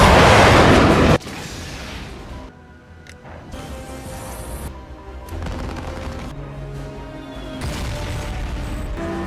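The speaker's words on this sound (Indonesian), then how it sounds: "yang membuat pesawat hantu itu menabrak menara dan akhirnya jatuh meledak" A ghost plane crashes into a tower and explodes in a film scene, opening with a loud roaring blast that gives way to rumbling and scattered bangs and booms.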